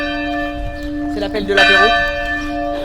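A church bell rings at noon in the Lot-et-Garonne countryside, its sustained tones hanging steadily throughout while people talk over it.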